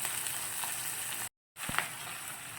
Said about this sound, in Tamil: வெங்காயம், கருவேப்பிலை சேர்த்துக்கோங்க. வெங்காயம் நல்லா வதங்கட்டும்.